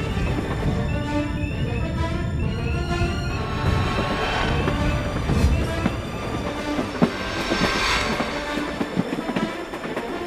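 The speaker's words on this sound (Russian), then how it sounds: "Поезда здесь всюду." A train in Russia rolls past close by, rumbling steadily with rhythmic clattering wheels and occasional metallic squeals, no talking.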